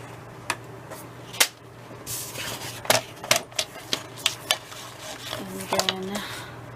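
Paper is cut for laminating, a string of crisp snips and clicks spaced irregularly at close range, with a low steady hum beneath and faint speech.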